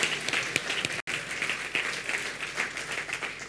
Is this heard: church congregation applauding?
yes